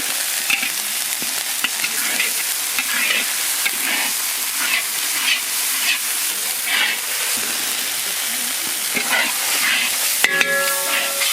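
Cumin, coriander and dry chilli sizzle steadily in a pan over a village cooking fire for chicken kofta curry, a dense continuous frying hiss with occasional stirring scrapes and a brief tonal clatter near the end.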